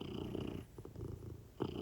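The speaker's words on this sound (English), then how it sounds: "Happy kitty." A cat purrs softly and continuously at close range, a low rumbling drone with a brief dip in the middle, quiet and with no voices.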